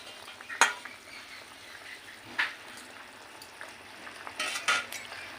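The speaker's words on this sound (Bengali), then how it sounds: "মাছগুলো দিয়ে এখন আস্তে আস্তে একটু নেড়ে চেড়ে নিচ্ছে।" Fish pieces stirred gently in a simmering curry: a soft low bubbling backdrop broken by a few sparse spatula scrapes and metallic clinks against the pan, near and fairly quiet.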